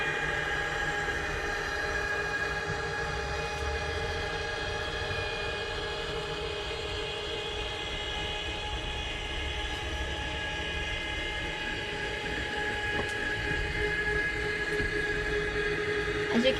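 Electric bed lift motor lowering the bed inside a Mercedes Sprinter 3500 extended 4x4 camper van, a steady low mechanical hum with whining tonal lines running unchanged for the whole stretch.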